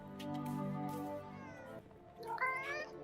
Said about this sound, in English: Nice place to look at the kitties. We've got so many of them now.